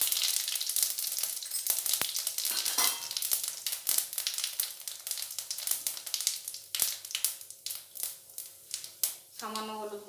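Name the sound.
whole spices tempering (phoron) in hot oil, sizzling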